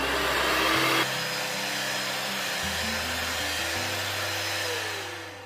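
An electric mixer beats vanilla cake batter with butter, its motor whining loudly and steadily up close, stepping between speeds in several distinct shifts before tapering off at the end, with no talking.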